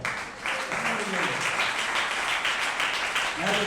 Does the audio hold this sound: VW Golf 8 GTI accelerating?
no